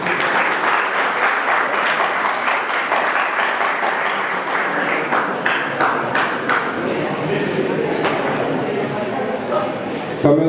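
A debate audience claps continuously while a university team takes the stage, steady and fairly loud for the whole stretch, with a voice faintly heard over it.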